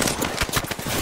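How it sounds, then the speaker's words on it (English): Video game gunfire: a rapid, loud burst of close, evenly spaced shots rattling through one second with no talk over it. "where are they shooting from?"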